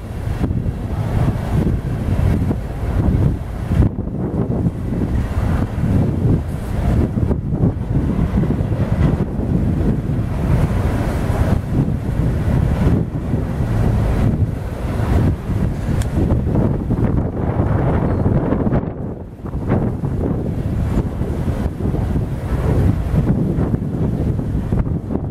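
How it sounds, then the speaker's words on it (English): Strong wind at Lake Parker buffets the microphone in loud, continuous gusts, rumbling and roaring throughout with brief dips. "it's very windy out here."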